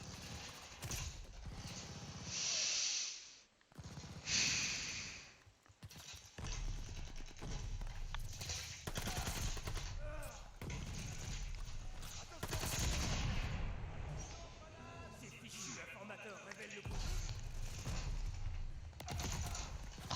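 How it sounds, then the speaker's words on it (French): Machine gun bursts and scattered gunfire from Call of Duty: Vanguard. The shots come in loud, dense volleys with game effects mixed in, and no talk is heard. "Le mec il m'envoie rafale."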